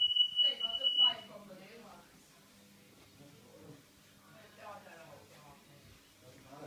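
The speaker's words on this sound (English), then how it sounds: "So our smoke alarm's beeping." A household smoke alarm gives one shrill, high beep lasting about a second at the start. Quiet talk follows in the room, with no further beeping.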